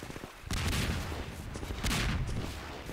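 Rapid bursts of enemy gunfire in Half-Life 2 break in sharply after a brief quiet start and keep rattling loudly and continuously, with a second surge of dense shots near the end.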